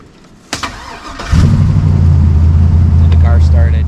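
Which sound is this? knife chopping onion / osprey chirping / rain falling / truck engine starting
truck engine starting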